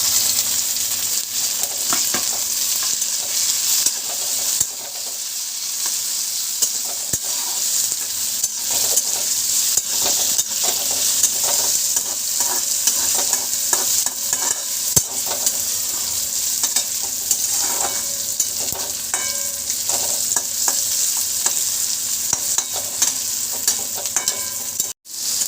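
Onions with curry leaves and freshly added tomatoes fry in a pan for paneer bhurji, a continuous close sizzle broken by frequent spatula scrapes and stirs throughout.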